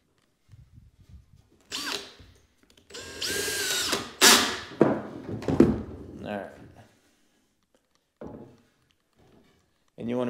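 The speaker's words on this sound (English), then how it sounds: "I've got the drill set to the clutch setting." Power drill set to its clutch setting driving screws during door and trim installation in a house flip, several short whirring bursts separated by pauses, close and fairly loud.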